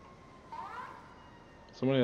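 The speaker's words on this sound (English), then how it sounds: "Somebody has their siren on." An emergency vehicle siren from the EmergeNYC firefighting game rises faintly and briefly in the background, then a voice cuts in near the end.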